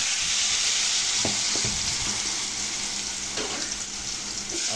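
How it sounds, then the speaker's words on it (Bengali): Potatoes fry in hot oil for a mixed vegetable dish, with a constant bright sizzle and occasional scraping knocks as the pieces are stirred around the pan. No one speaks. "প্রথমে আমি তেলটা একটু গরম করে নিব এবং আলুগুলো ভেজে নিব।"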